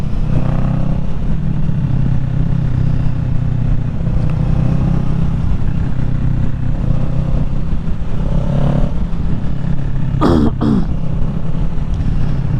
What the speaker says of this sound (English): the exhaust sounds beautiful